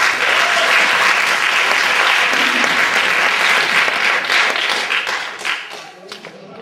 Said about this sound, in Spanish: ¡Aplauso para Eugenio!